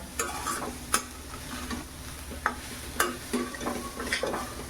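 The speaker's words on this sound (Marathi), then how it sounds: "हे असं ढवळून ढवळून जरा घ्यायचं मिक्स सगळं असतोपर्यंत" Coconut and jaggery karanji filling stirred in a pan: steady scraping strokes punctuated by several sharp spoon taps on the pan over a low sizzle, close and moderately loud, with no voices.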